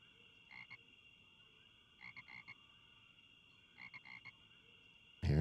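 Video game frog croaking in three short clustered bursts of a few quick croaks each, spaced a second or two apart over a faint, steady electronic hum, with a sudden loud thump at the end.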